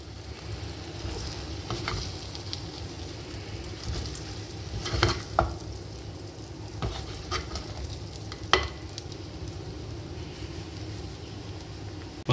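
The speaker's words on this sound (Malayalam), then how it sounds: "നമുക്കപ്പോൾ കുറേശ്ശെ കുറേശ്ശെ ഇതിലിട്ടിട്ട് ഒന്ന് ഇളക്കി ഇളക്കി എടുക്കണം" Rice with sardines is stirred over a low flame, giving a soft continuous sizzle with occasional scraping and tapping strokes of a spoon against the pan, fairly quiet and close, with nobody talking.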